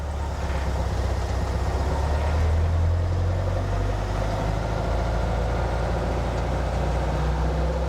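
Car with twin Weber 40 IDF carburetors running a lap, its engine droning steadily and loud with a deep low rumble that holds fairly even throughout.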